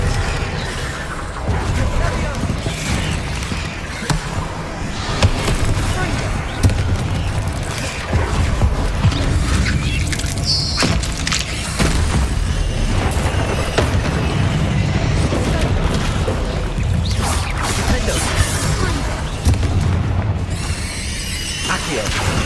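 Spell explosions and combat effects from the video game Hogwarts Legacy: repeated loud booms and bursts over a dense rumbling game soundtrack, with a voice shouting throughout.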